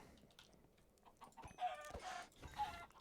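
Chickens clucking in Minecraft, a crowded flock giving a few quick overlapping clucks and squawks, soft and close with no talking.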